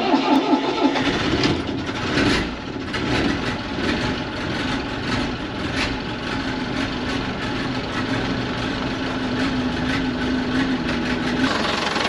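A Merlo P30-11 telehandler's engine cranks and catches after repair, then settles into a steady close mid-pitched running drone that holds for several seconds.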